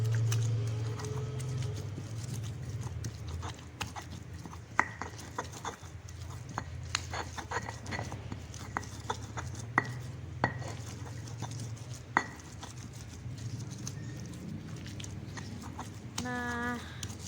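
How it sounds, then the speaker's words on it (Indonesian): Stone mortar and pestle (cobek ulekan) grinding spices, heard as a steady gritty scraping with scattered sharp knocks of stone on stone, close and continuous under a low background hum. "Kita ulek sampai rata ya teman-teman ya."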